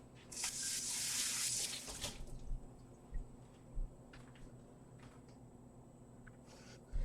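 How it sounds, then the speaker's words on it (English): Yarn dyed with Kool-Aid is rinsed under a running tap, a loud rush of water for about two seconds before it cuts off, then faint drips and small clatters in a quiet room. "what we're going to do is quickly rinse this."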